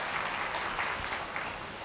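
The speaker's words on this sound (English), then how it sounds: "Give them a round of applause." Audience applause at a criminal justice talk, greeting public defenders department staff; steady, dense clapping fills the short stretch at even loudness, with no voices standing out.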